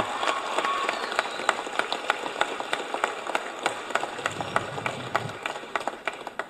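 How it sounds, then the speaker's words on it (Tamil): An audience claps at a film trailer and audio launch event, producing a sustained patter of many hands with sharp individual claps, at moderate loudness with no talk over it. "அவருக்காக எல்லாரும் எந்திரிச்சுட்டு கைத்தட்டணும்னு கேட்குறேன்"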